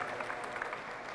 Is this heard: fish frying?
no